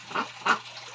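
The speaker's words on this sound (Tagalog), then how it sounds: "papakastahan natin dito sa ating barakong Peking duck." A Peking duck drake gives two short, raspy honking quacks about a third of a second apart, faint and close with no talk.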